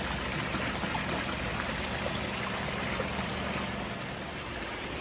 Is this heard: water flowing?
yes